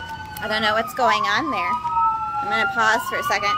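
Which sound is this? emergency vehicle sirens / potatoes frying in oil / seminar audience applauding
emergency vehicle sirens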